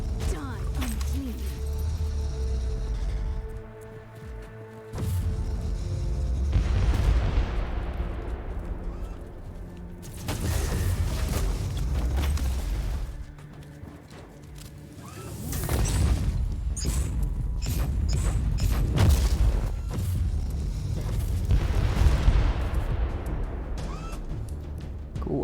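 Mortar fire in Warhammer 40K Inquisitor - Martyr arrives as repeated heavy booms and rumbling explosions in waves, each blast sweeping into a long roaring decay, with a game voice speaking among them.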